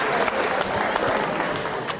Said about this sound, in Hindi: तालियां जोरों से बजाइए करण के लिए।